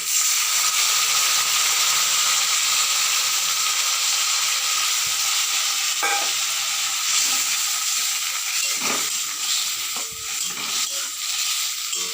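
Okra in mustard paste sizzling in a pan after a little water is added: a steady, bright frying hiss with occasional scraping stir clicks, close and continuous.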